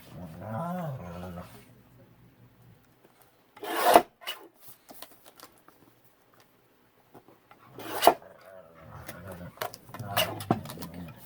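Scissors cutting paper for an altered student planner journal, a few short close rasping snips separated by quiet pauses, with someone talking between them.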